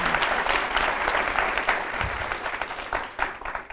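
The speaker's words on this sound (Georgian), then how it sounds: "გავახლეოთ კიდევ ერთხელ აპლოდისმენტებით." A studio audience on a television quiz show gives a short, steady burst of applause, dense and even throughout.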